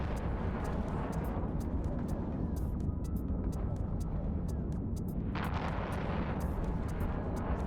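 Weapons fire hitting ships in the EVE Online space game, a steady dense rumble of distant artillery-like booms with sharp crackling bursts scattered throughout, continuous and fairly loud.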